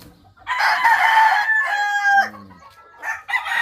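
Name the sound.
White Kelso broodstag rooster crowing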